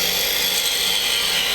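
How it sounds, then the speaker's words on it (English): Parting tool cutting into waste wood on a wood lathe while turning a retro Christmas bulb ornament, a steady continuous hissing scrape that stays loud and even throughout, with no talking. "we're going to come in with the parting tool here"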